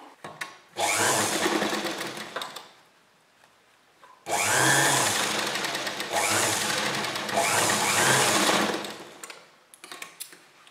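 A sewing machine runs in bursts, stitching kurti fabric together with its lining: a loud, close whirring rattle for about two seconds, a pause, then a longer steady run of rapid stitching before it stops.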